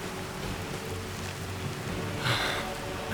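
Steady rain falls across an outdoor scene in the Skyrim video game, a continuous broadband hiss with a brief swell of brighter noise near the end, no talking.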